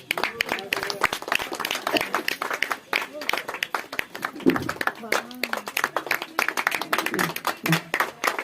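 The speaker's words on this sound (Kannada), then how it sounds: "ನಿಮ್ ಚಪ್ಪಾಳೆ ಮೂಲಕ ಅವರನ್ನ ಸ್ವಾಗತಿಸಬೇಕು." A school audience at an event in Mysuru claps in welcome for a guest, producing dense, steady applause with sharp individual claps throughout, while people's voices are also heard.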